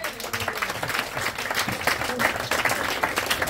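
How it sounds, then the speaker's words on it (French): An audience at a hypnosis show applauds, moderately loud clapping sustained across the moment with a crowd murmur beneath. "Eh ben, je pense qu'on peut les applaudir."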